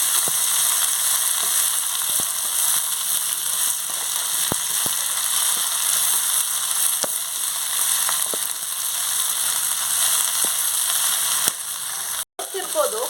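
Raw brined jackfruit frying in a little oil for a Mangalorean palya, a steady close sizzle with occasional clicks of stirring and a brief knock near the end.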